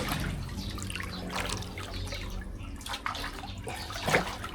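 Water pouring and splashing steadily into an outdoor bath, a continuous close trickle with a few louder splashes near the end, no voices.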